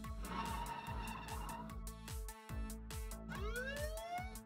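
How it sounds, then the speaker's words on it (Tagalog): Toy police car siren in a children's museum play vehicle, a loud electronic wail with rising and falling sweeps that repeats steadily over a pulsing rhythmic backing, with no talk over it. "Ayun yung sirena niya!"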